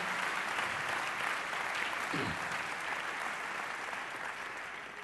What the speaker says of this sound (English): Please, an applause to go ahead.